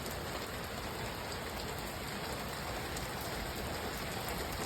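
Heavy rain pours down steadily on a surface, a dense, loud, unbroken hiss filling the whole stretch with no voices.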